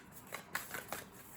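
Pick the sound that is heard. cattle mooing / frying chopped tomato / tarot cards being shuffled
tarot cards being shuffled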